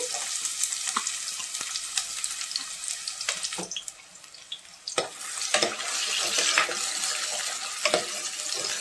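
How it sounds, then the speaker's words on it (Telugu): Chopped onions hit hot oil in a pan for gongura chicken, a loud continuous close sizzle with scattered crackles and stirring clinks, swelling as they go in. "ఆయిల్ బాగా కాగిన తర్వాత మనం కట్ చేసి పెట్టుకున్న ఉల్లిపాయలు అయితే వేసేసుకోవాలి."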